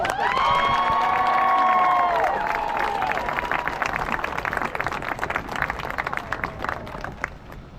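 Senior night crowd in a gym breaks into loud cheering and applause for the graduating players, with whistles and shouts at first, then steady clapping that carries on strongly, no clear talk over it.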